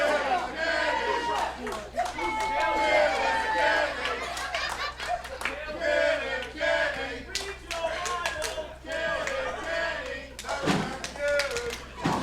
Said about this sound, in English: But the crowd's still firmly behind Sam Kenny.